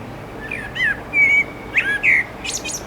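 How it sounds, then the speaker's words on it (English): A blackbird sings outdoors beside a sunken fire pit build with freshly poured concrete foundation, giving several clear, fluty whistled phrases at moderate distance, with short pauses between them and no talking. "And there again is your blackbird."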